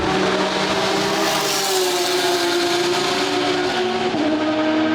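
A Corvette C8 E-Ray with a naturally aspirated 6.2 liter V8 driving hard on the track at Circuit Zolder in Belgium, a loud, steady engine drone from close by that holds and shifts pitch slightly with no pause.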